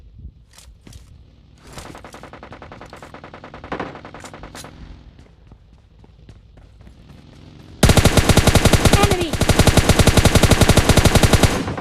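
Gunfire in PUBG Mobile Lite: scattered single shots and short bursts with footsteps at first, then a sudden, very loud, rapid sustained burst of automatic fire close by that continues to the end.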